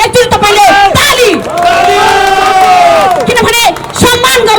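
A large crowd at a monarchist street rally cheers and chants loudly in unison, the sustained shouted calls rising and breaking off close by in several long bursts.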